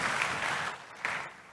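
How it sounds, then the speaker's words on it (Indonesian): A church congregation applauding, a short, fairly soft burst of clapping that fades, then a brief second swell. "Kasih tepuk tangan buat Tuhan Yesus."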